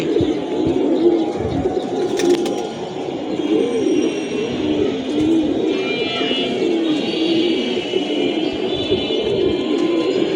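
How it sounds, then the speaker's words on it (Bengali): A flock of pigeons landing and cooing, steady close-up cooing under a busy outdoor bed of bird and animal noise, with a brief flutter of wings near the start. "এই যে কবুতরগুলা ল্যান্ডিং টাইম হয়ে গেছে"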